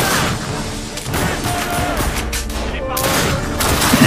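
Rapid gunfire in the video game The Darkness II, sustained bursts of automatic shots crackling close and loud under a noisy, chaotic scene, with speech-like sounds mixed in.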